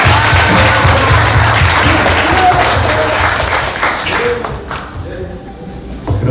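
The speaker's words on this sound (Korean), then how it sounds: "우리 천대장을 위해서 박수 한번 부탁드립니다." An audience at an Incheon meeting claps loudly for several seconds under mixed crowd noise. The applause then thins and fades, and voices come through near the end.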